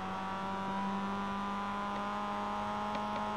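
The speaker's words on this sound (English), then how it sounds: "You can hear that nice bumblebee roar of that Miata engine." A Mazda Miata race car engine drones steadily in a buzzing, bumblebee-like tone during a race at Summit Point, West Virginia, holding a constant pitch with a faint rising whir throughout and no voices.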